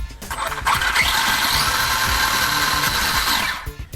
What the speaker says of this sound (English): I'll give you a bit of a quick demo of wheel speed.